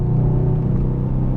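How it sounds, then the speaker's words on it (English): Deep, steady exhaust rumble from a Mercedes-AMG S63 Cabriolet's 4-litre biturbo V8 with the exhaust flaps open, a loud continuous low drone held at constant level with no talking. "You can hear the exhaust flaps open now. The deeper rumble of the 4-litre V8 is there."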